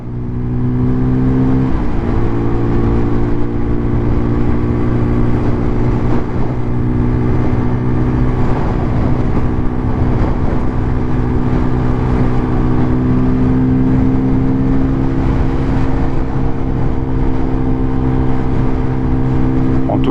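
A Peugeot PM-01 125cc motorcycle engine drones loudly and steadily, its pitch climbing gradually as it accelerates, close by and continuous.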